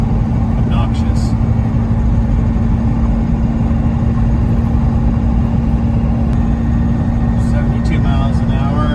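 A 1996 Chevrolet K2500 Suburban with a 12-valve Cummins diesel cruising on the freeway around 70 mph at about 2,000 RPM, a loud, steady low drone with road noise filling the cabin and a voice speaking over it.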